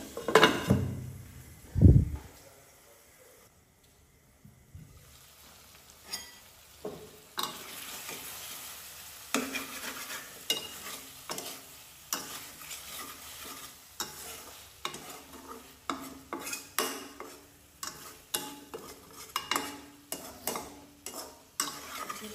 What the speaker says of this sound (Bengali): এখন আস্তে আস্তে মাছটাকে কষিয়ে নেব।